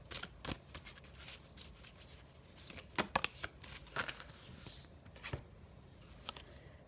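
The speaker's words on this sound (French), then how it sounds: "On va tirer encore. une ou deux cartes, on va voir un petit peu ce qui se passe." Tarot cards are shuffled and drawn: a steady papery riffle with sharp snaps and slaps of cards as they are cut and pulled, close up, with no voice.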